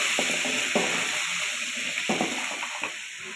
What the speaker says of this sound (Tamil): சின்ன வெங்காயம் ஆட் பண்ணிக்கலாம்